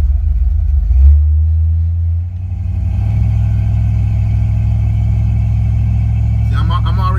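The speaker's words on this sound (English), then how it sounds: "That was a pretty good launch." A Ford Fox Body Mustang with a nitrous install makes a power brake launch, its engine loud and close, rising from a rumble into a sustained roar, with a brief squeal near the end.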